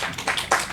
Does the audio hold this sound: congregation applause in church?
yes